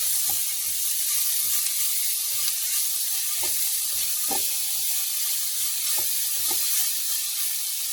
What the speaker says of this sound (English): The onion is caramelizing.